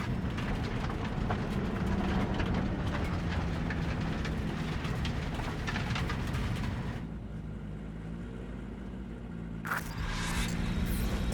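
A train rumbles past in Cyberpunk 2077, a steady heavy rolling roar that drops to a lower drone partway through, with a brief hiss near the end.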